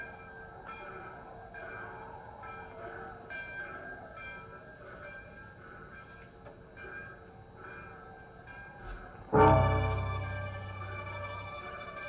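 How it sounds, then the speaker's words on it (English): A train rumbles and clatters steadily at a moderate distance for several seconds, then a loud low horn-like blast cuts in sharply near the end and slowly decays, with no one talking. "If you get on that train,"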